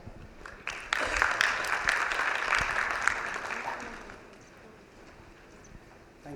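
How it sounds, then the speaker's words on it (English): An audience at the Wi-Fi India Summit in Mumbai applauds the event's organiser. Scattered clapping swells into a few seconds of sustained applause, then fades away. "Please give him a round of applause for putting together this wonderful event."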